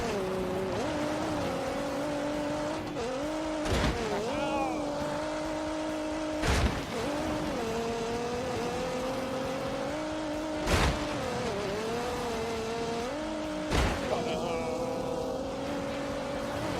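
A race car on a flying lap in The Grand Tour Game holds a steady high engine drone, with pitch dips and rises at gear shifts and corners and several brief sharp bursts along the way.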